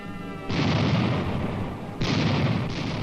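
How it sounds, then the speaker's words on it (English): Soviet cannon fire strikes a peasant village: two heavy, sustained booming blasts with rumbling roar, loud and close, the second following about a second and a half after the first, with no talk. "Entire villages of kulaks are wiped out by Soviet cannon fire."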